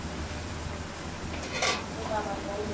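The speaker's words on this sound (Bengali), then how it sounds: "এখন হলুদের গুঁড়া, জিরার গুঁড়া, ধনিয়ার গুঁড়া, মরিচের গুঁড়া সব কিছু দিয়ে ভালোভাবে কষিয়ে নিব" Ground turmeric, cumin, coriander and chilli stirred and fried in oil for a tengra fish curry: a steady low sizzle with scraping and a brief clatter of a spoon against the pan, nearby.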